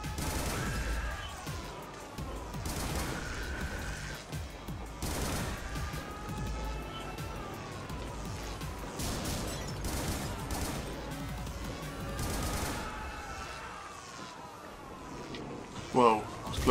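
Rapid bursts of gunfire from the Xbox One game Butcher, repeated volleys and clattering shots running steadily through the whole stretch over a dense, loud game soundtrack, with a sharp impact near the end.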